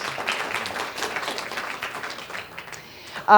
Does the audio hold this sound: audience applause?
yes